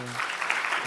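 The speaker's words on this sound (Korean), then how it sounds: "우리 도연주 사모님 잠깐 소개할 텐데 박수로 환영해 주시기 바랍니다" A brief burst of congregational clapping at a Korean church's Friday worship service, welcoming a pastor's wife, heard as a short, even patter with a voice present at its start.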